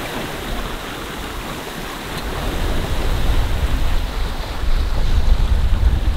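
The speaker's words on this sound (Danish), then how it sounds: "Der kom en lille bitte smule vind" Broadband wind and water rush while sailing a boat in light wind, a steady loud wash of surf-like noise with deep low rumble of wind on the microphone, swelling slightly stronger in the second half, with no voices.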